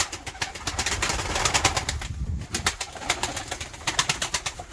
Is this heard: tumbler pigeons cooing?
yes